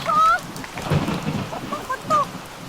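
Thunder rumbles over steady rain during a rainy season, with some faint higher tones scattered across a short stretch.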